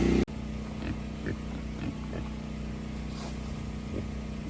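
Pigs on a small homestead give faint, scattered grunts and oinks over a steady low mechanical hum, with no voices.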